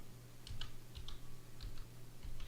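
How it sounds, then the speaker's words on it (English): Typing on a computer keyboard, a few faint, sparse key clicks and taps at close range over a steady low electrical hum, with no talking. "Here, I think I got to type in fuel oil."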